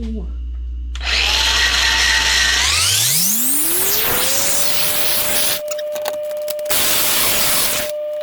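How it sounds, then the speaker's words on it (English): An angle grinder spins up from idle to a loud, high whine and grinds paint off metal on a Jeep WJ steering part, the pitch steadying while the grinding roughness comes and goes in bursts. "I gotta get that paint off there, so I'm gonna grind that off there"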